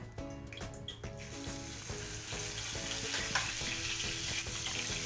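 Oil heating and frying in a pan for a mixed vegetable curry made without onion or garlic, a steady close sizzle with light clinks of utensils near the start and no voices.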